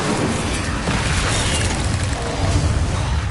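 Incendio fire spell blasts in Hogwarts Legacy, a dense, continuous roaring whoosh of fiery bursts that stays loud and close for the whole stretch, with no talking.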